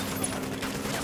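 Sustained gunfire in the tactical shooter game Ghost Recon Wildlands, a dense continuous fusillade with no clear gaps between shots, steady and moderately loud throughout.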